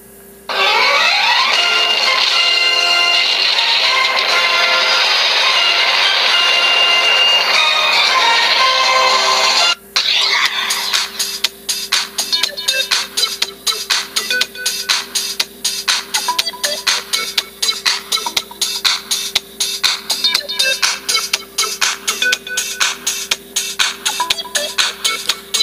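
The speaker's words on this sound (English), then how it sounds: "Here are some of my custom-made iPhone ringtones." Custom iPhone ringtones play loud and close, first a sustained tonal, music-like passage, then after a brief break a rapidly pulsing, rhythmic repeating pattern that runs to the end.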